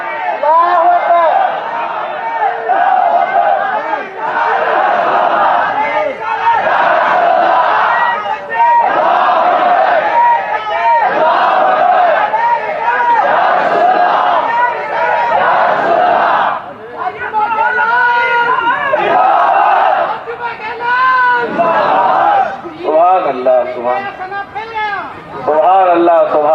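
A large crowd at a Sunni religious gathering in Anantapur chants the slogan Allahu Akbar, loud voices rising together in repeated rhythmic waves that run almost without pause.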